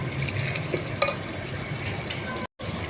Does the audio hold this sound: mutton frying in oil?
yes